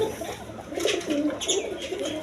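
A pair of pigeons for sale coo steadily at moderate loudness, low throaty calls repeating over a busy, noisy background.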